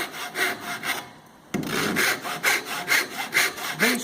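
A hand saw cuts waist cuts into timber for a cross halving joint, about a dozen rasping strokes in a steady back-and-forth rhythm, close and clear, with one short pause partway through.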